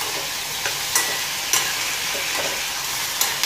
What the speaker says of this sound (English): Fry them. This tomato is almost half cooked.